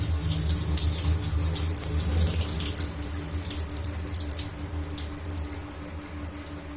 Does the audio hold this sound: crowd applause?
no